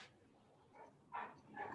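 Dogs bark and yip faintly in the distance during a video call, a few short muffled barks over low room noise.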